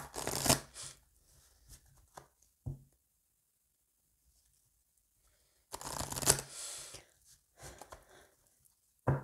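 A deck of tarot cards is cut and riffle-shuffled up close, with two loud fluttering bursts separated by quiet pauses and a few soft taps of cards settling.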